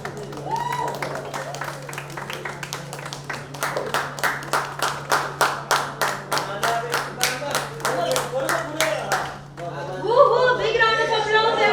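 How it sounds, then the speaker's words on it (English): Audience at a Bollywood kombucha product reveal claps in a steady rhythmic beat that quickens, then breaks into scattered cheers and whoops, with a low steady hum beneath and voices joining near the end. "Big round of applause, everyone!"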